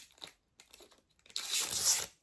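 A plastic bag holding prescription glasses wrapped in film is handled up close, with soft crinkles followed by a louder, sustained rustling crunch, quiet and alone.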